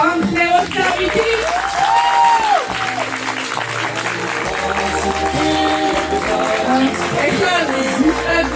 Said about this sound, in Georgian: მოდით განსაკუთრებული ოვაციებით კიდევ ერთხელ გავამხნევოთ დავითი.